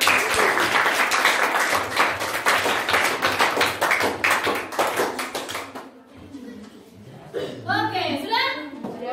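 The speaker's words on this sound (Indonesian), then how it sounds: "Sekali lagi berikan dulu tepuk tangan." Students in a junior high school classroom give a round of applause, fast rhythmic clapping for about six seconds that stops as a voice begins talking.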